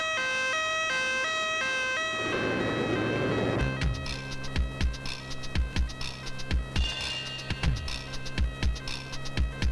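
A two-tone ambulance siren alternates rapidly in a Bollywood action film scene, loud and clear for about two seconds before it gives way to a pounding, rhythmic music track.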